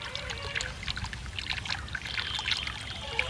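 Biryani cooking water poured into a pot of mutton dum biryani, giving a steady, close trickling pour that runs continuously with no talk.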